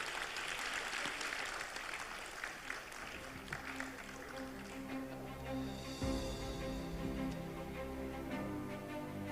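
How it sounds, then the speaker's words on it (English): Audience applause at a publishing congress, a fairly faint spread of clapping that thins out and gives way to a low hum and background murmur. "Round of applause for them."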